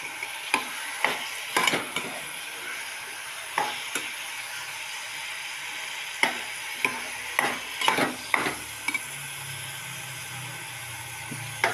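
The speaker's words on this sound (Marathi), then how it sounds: "आता त्याच्यात कांदे टाकले आहे." Onions fry in hot oil with a pinch of salt, giving a steady, hissing sizzle broken by sharp, irregular clacks and scrapes of a spatula stirring against the pan, close and clear.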